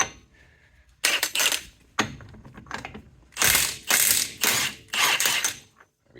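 A ratchet turning a 1 3/4 socket to remove a large hub nut on a second-generation Ram truck, sounding as repeated close clicking strokes in rhythmic bursts separated by brief pauses.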